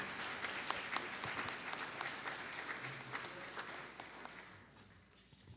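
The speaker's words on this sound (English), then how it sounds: "So I think we need to give them a good round of applause right away." An audience at a Christmas gala concert applauds with dense, steady clapping that tapers off and fades toward the end.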